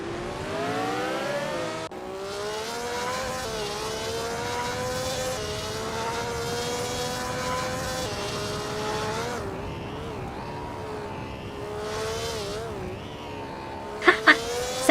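Lotus 49 race car engine in a racing video game, a steady high-revving whine with shifting pitch held throughout, with brief sharp knocks near the end.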